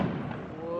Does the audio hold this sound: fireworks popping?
yes